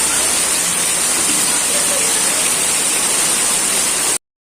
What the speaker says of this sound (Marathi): पाऊस बघा किती पाऊस आहे